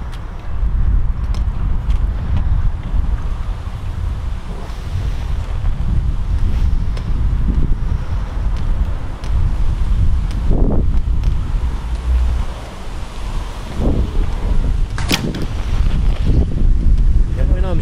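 Gusty wind buffets the microphone at an outdoor archery range during compound bow shooting, a loud low rumble that swells and eases, with a speaking voice underneath.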